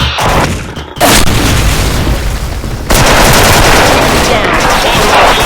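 Explosions in a Thai multiplayer video game, with loud booming blasts and bursts of gunfire filling the whole span, sharp onsets near the first second and again near three seconds, while voices talk over the action.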